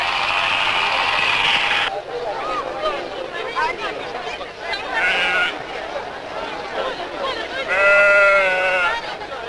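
Sheep bleat repeatedly, loud and close, at a sheep-shearing contest during a republic day festival in Buryatia, with someone narrating over the wavering, drawn-out cries.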